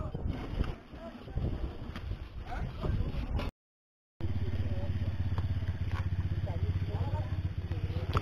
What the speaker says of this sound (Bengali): বাইক ওটাই চাগিয়ে নিয়ে নামিয়ে ওপরে তুলে দিচ্ছে, প্রচন্ড খাড়া এই রাস্তাটা